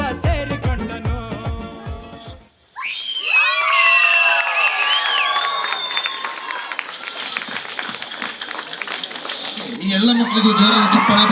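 At a Ganesh Utsav stage event in Bengaluru, music cuts off and a crowd breaks into loud applause and cheering with high whoops and shouts, sustained and close, swelling again near the end.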